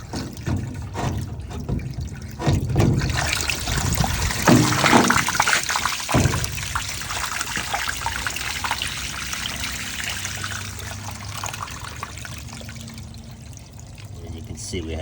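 Water gushing and trickling out of a GE washing machine that won't drain or spin, a steady pouring flow that stays fairly loud before easing slightly, with someone talking over it.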